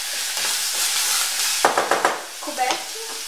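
Diced, peeled apples cook in a pan over low heat with no water added, giving a steady soft sizzle and hiss, with a few louder stirring scrapes and spatters toward the end.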